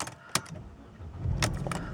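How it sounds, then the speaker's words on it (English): A 2005 Mercedes-Benz C180 is started with a key: keys jangle and click in the ignition, then the engine cranks and catches into a steady close idle. "take the key, pop it in the ignition,"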